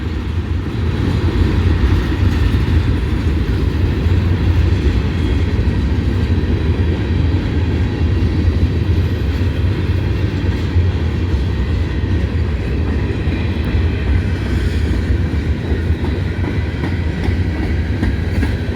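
A heavy BNSF freight train labors slowly uphill near Abbeville, a loud, continuous rumble and grinding roar that holds steady throughout with faint rhythmic wheel clatter.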